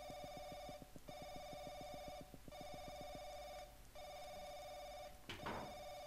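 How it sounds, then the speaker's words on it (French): In the horror video game Paranoiac, a telephone rings in repeated long trills separated by short gaps, steady and fairly loud over a low background hum, with no talk. "Ah, téléphone."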